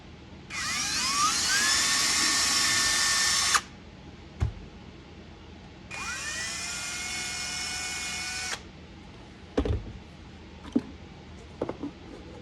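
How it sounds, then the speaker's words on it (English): A small high-pitched rotary drill whines in two bursts of about three seconds each while boring a hole through a resin frog figure, with soft clicks and taps between the bursts. "try to drill the hole through that frog"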